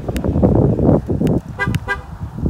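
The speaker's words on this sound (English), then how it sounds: "It'll beep the horn to tell me that that car isn't locked fully" A Ford car horn gives a few short beeps as the car is locked with the key fob, warning that a door or lock is not fully shut. The toots are close and loud, over a short stretch of rumbling background sound.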